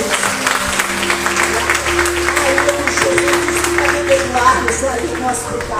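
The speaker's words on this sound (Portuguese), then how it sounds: "Vamos dar salva de palmas, Senhor Jesus." Church congregation applauding during a worship service, steady clapping throughout with a sustained tone or organ underneath and voices mixed in.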